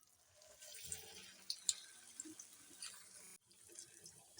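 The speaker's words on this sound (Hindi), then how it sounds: "अब इसमें हम फ्राई करना शुरू करेंगे।" Potato snacks frying in hot oil in a pan give a faint, steady sizzle with a few sharp crackles and pops; no one speaks.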